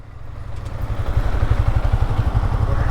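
A motorcycle being parked on a ride to Haridwar, its engine idling with a loud, steady low chugging pulse that builds slightly and holds close by.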